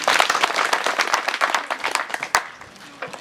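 An audience at a Kenyan primary school event claps for the church vice chairman who sponsored it. The sharp, close hand claps come fast and scattered, then thin out toward the end.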